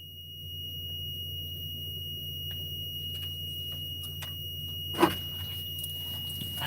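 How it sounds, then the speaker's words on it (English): A steady high electronic alarm tone drones continuously, with a few faint clicks and a brief louder knock partway through; no one speaks. "I can shut this stupid alarm off."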